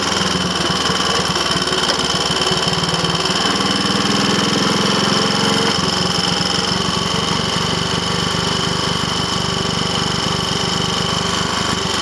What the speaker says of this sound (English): I don't want to damage the engine. Shouldn't be struggling like that.